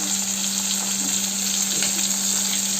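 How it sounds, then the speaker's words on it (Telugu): Chili powder stirred into gravy in a hot pan, giving a loud, continuous sizzle and frying hiss close by, with faint stirring underneath and no talk. "కారం కూడా వేసేద్దాం మనకి గ్రేవీ కోసం"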